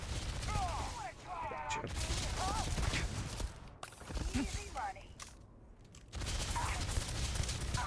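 Rapid bursts of Magstorm weapon fire rattle in Starfield, loud dense volleys broken by brief pauses, with a voice speaking between and over the shots.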